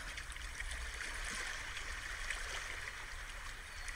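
Sea waves wash along a shore in a steady, soft, continuous rush at a distance, with no voices or other sounds over it.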